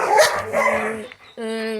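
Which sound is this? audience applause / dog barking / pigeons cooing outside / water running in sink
dog barking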